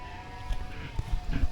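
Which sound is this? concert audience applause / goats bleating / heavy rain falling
goats bleating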